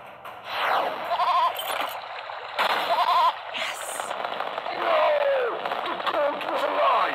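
A goat bleats in the video game There Is No Game: two wavering bleats, then a longer warbling call over game sounds and glitchy effects, loud and near.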